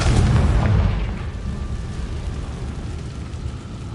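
In Hogwarts Legacy, a Confringo spell blast lands as a deep booming explosion that peaks at once and then fades into a long low rumble.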